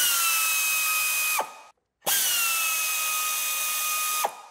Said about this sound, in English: these are gonna require a 12 millimeter socket.